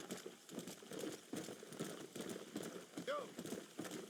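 Horse hooves clip-clop at a steady trotting rhythm in the Red Dead Redemption video game, mid-loud and continuous throughout, with someone talking over them.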